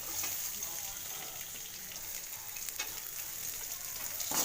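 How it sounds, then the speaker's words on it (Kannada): Green chillies sauté in a pan with a steady, faint sizzle and light crackle, plus an occasional soft stirring scrape toward the end, with no talking. "ನಂತರ ಹಸಿ ಖಾರ ಹಾಕಿದ ಮೇಲೆ ಸ್ವಲ್ಪ ಬಾಡಿಸ್ಬೇಕು."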